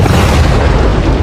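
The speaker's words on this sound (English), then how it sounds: "how do you build the line on rocky ground that makes it impossible to dig up?" Dynamite blast on rocky ground during railway line building in a family-made Sodor-themed animated story, a loud, dense boom and rumble filling the whole brief stretch with no talk over it.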